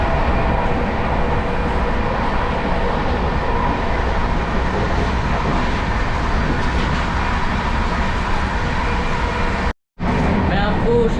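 The Sampoorna Kranti Express, a New Delhi to Patna passenger train with modern Humsafar-livery coaches, runs with a steady loud rumble and rattle of wheels and carriages, broken by a sudden brief cutout near the end.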